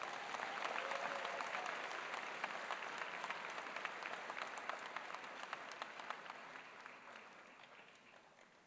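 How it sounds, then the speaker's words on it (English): An audience at a dental school white coat ceremony gives sustained applause, a dense wash of many hands clapping that slowly fades over several seconds, with no speech over it. "A little more applause while they're being photographed."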